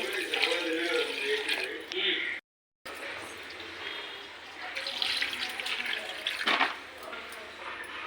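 Fresh prawns rinsed under running water in a kitchen: a steady splashing stream with dripping, moderately loud, briefly cut off near the middle, and a voice speaking over parts of it.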